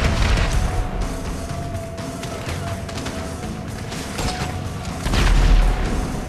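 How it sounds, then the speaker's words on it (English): A rocket launcher fires in GTA 5 amid dense game noise: rumbling, mechanical clatter and a heavy boom swelling near the end, loud and continuous with no clear talk. "Excellent shot with the rocket launcher."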